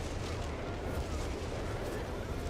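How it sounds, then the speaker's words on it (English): Whizbang rocket artillery fires in Company of Heroes 3: a dense, continuous roar of launches and blasts rumbles steadily throughout, with no clear gaps between the explosions. "Whizbang doing some damage"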